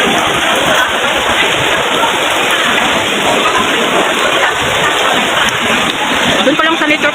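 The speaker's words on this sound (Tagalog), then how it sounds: "Kaya titila itong ulan. Lakas na eh." Loud, dense rain pours down steadily, a constant hiss and patter close by, with voices faintly present underneath.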